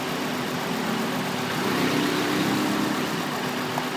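A Honda Accord engine with a misfire idles with a steady, uneven hum, continuous and fairly loud throughout, with no talking.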